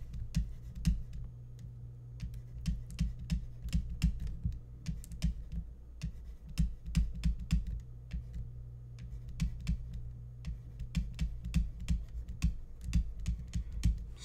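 Fingers typing on a computer keyboard, a quick irregular patter of close, light key clicks in short bursts with brief pauses between.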